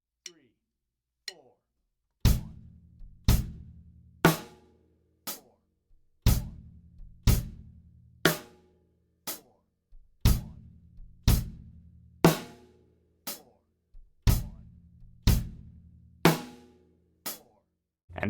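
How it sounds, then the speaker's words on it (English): Drum kit quarter-note beat with an extra bass drum and hi-hat added on beat 2, struck hits repeating in a steady pattern at moderate tempo, played alone and fairly close. "we're going to add another bass drum with the hi-hat on beat 2"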